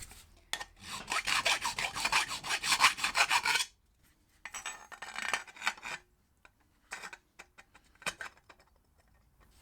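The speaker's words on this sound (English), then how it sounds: "We need a little bit of deburring." Metal deburring on a KTM Duke exhaust baffle: a quiet rasping file scrapes in two long bursts, then in short strokes and scattered taps, with pauses of silence between.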